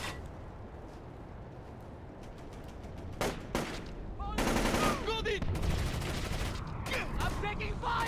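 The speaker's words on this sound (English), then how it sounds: "I'm taking fire." Gunfire in the stealth shooter Splinter Cell: Chaos Theory, bursts of rapid automatic shots and single cracks building into sustained heavy fire, loud and close.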